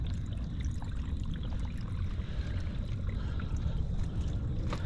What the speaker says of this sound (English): You can hear it trickling down to the rocks.